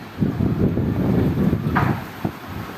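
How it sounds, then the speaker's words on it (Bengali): Strong gusty wind ahead of a storm buffets the microphone outdoors, a deep rumbling roar that swells and dips over a few seconds, with a brief brighter rustle near the end. "এত বাতাস, এত বাতাস"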